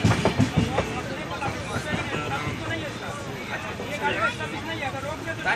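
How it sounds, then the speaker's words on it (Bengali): Passenger train pulling out of Asansol station, a steady broad rumble with faint rhythmic rail clatter, heard from inside the carriage under continuous nearby chatter and voices. "এই আসানসোল থেকে ট্রেন ছাড়লো সবে"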